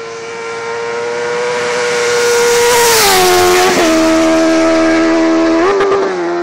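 Honda Hornet motorcycle with an aftermarket exhaust revs loudly and close by, engine pitch climbing and dropping through several throttle blips with a steady, throaty drone between them.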